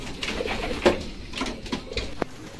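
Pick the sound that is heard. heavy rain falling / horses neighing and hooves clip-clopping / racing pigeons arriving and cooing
racing pigeons arriving and cooing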